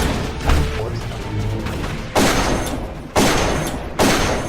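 Shotgun blasts in the video game Darkest of Days, three sharp booming shots at irregular intervals over a busy background of distant gunfire and battle noise.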